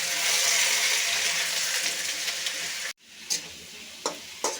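Snake gourd frying in a pan with ginger, giving a steady broadband sizzle for about three seconds, then a quieter crackle with a few sharp utensil taps near the end.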